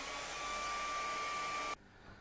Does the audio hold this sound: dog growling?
no